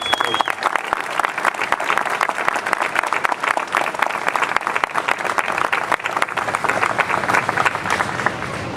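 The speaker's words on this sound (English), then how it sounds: "Let's give both the ceremonial unit as well as the FDNY Color Guard and the FDNY Emerald Society Pipes and Drums a nice round of applause for their participation." A crowd at an FDNY 9/11 memorial street-naming ceremony gives a sustained round of applause for the FDNY Color Guard and the Emerald Society Pipes and Drums. The clapping is dense and steady throughout, with no talk over it.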